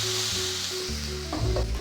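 Water poured onto fried potatoes in a pan for Bengali aloo posto, bursting into a loud hissing sizzle that holds briefly and then shifts as the liquid settles.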